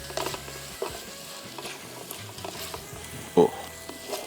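Tomatoes, garlic and ginger frying over high heat for prawn biryani, a steady soft sizzle with scraping stirs throughout and one sharp utensil clack near the end.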